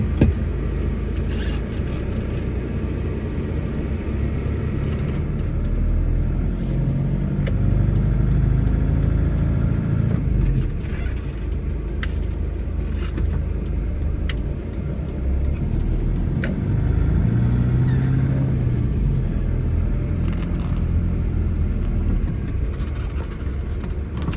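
A 2003 Nissan Frontier 3.0 four-door pickup's engine hums steadily while driving along, with road rumble throughout and a few brief rises in revs.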